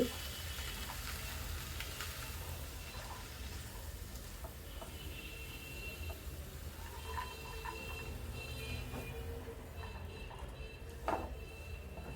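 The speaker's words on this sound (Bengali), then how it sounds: "মশলার সাথে নেড়ে মিশিয়ে দিচ্ছি।" Spring onion greens stirred with spices in a frying pan give a steady, close sizzle under occasional scrapes and taps of the spoon against the pan.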